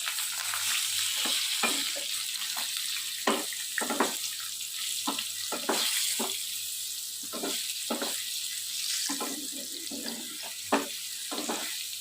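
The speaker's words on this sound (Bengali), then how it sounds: "আলুটাকে ভালো করে ভেজে নেব।" Potato chunks with salt and turmeric fry steadily in oil with mutton fat, a dense continuous sizzle with scattered clinks and scrapes of stirring throughout.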